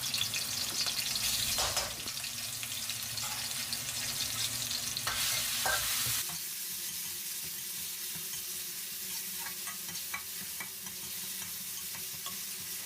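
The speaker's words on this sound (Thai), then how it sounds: "เมื่อน้ำมันร้อนแล้วก็นำพริกที่เราตำเมื่อกี้นะครับ ผัดให้หอมกันต่อเลยครับ" Pounded chillies stir-fry in hot oil in a wok, a steady close sizzle with bursts of scraping and tossing early on, settling into quieter continuous frying.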